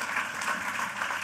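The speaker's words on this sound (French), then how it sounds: "C'est super de se faire applaudir au début." An audience applauds at the opening of a tech conference, a brief, steady wash of clapping from a crowd.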